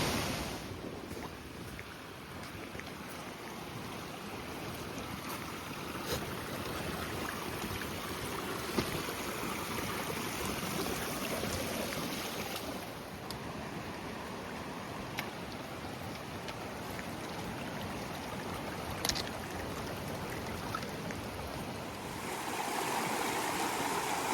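The Mowich River rushes loudly and steadily at a trail crossing on the Wonderland Trail, a continuous broadband roar of fast water with some wind buffeting the microphone.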